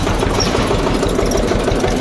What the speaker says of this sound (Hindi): देखो ट्रैक्टर की साउंड और एक नंबर साउंड है।